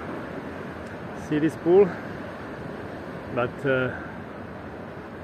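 Gentle ocean waves wash steadily at a beach in Puerto de la Cruz, Tenerife, a soft continuous surf hiss with breezy air while a person talks briefly over it.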